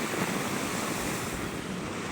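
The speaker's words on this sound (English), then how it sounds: "my little 5-minute video of the ocean and the waves" Ocean waves surge in a continuous, loud wash, with wind buffeting the microphone throughout. No one speaks.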